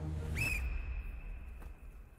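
A sharp, shrill signal whistle blown once, about a quarter-second burst that holds a steady tone for more than a second, close and loud over a rumbling room background.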